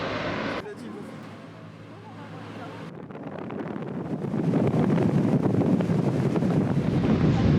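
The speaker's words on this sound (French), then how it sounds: "Il y a un tout petit peu de vent." Wind buffets the microphone aboard a sailing boat heading out toward Propriano in Corsica, a rough, gusty rumble that starts softer and then swells louder and steadier, with engine and water noise beneath.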